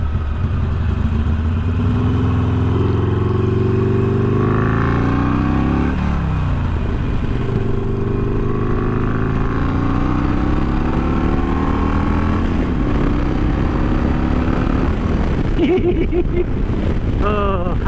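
A Harley-Davidson Iron 883 motorcycle rumbles along on a road trip, its engine note rising and falling through gear changes under constant heavy wind noise, loud and close throughout.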